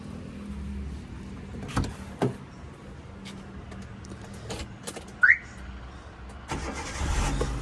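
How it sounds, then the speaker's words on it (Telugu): A 2008 Hyundai Santro Xing GLS petrol engine cranks and turns over after some clicks and thumps, then settles into a low running rumble toward the end. "ఒకసారి ఇంజన్ కూడా స్టార్ట్ చేసి చూపించడం జరుగుతుంది"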